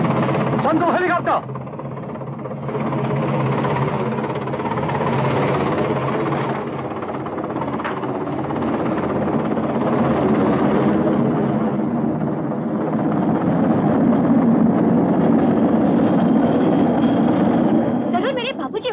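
A helicopter in a 1983 Hindi film scene drones with a steady, continuous rotor and engine hum that swells slightly toward the end, with people talking over it.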